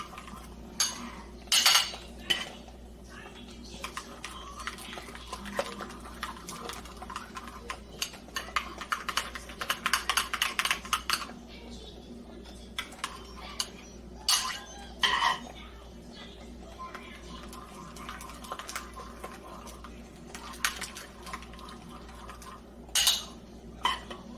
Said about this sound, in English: So I'm just going to slowly add more and more and more into this, stirring it up.